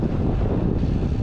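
Low, blustery rumble of headwind buffeting the microphone while cycling in Switzerland, continuous and close, with no other sounds.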